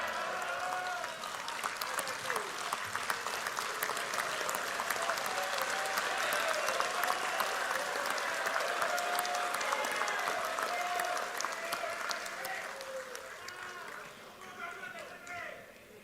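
Sustained crowd applause fills a hall during the UMNO general assembly, thick continuous clapping with some cheering that stays strong, then gradually thins and fades toward the end, with a voice faintly mixed in.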